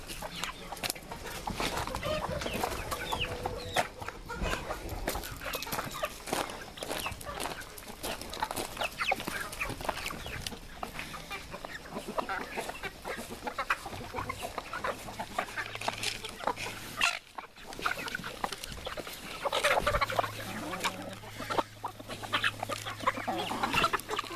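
Chickens cluck and murmur continuously nearby, several birds overlapping in a busy farmyard with soft background noise.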